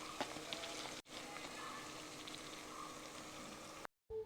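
Chili and coriander powder masala fries for a chicken curry with a continuous close sizzle and crackle, broken by two brief dropouts into silence; no speech.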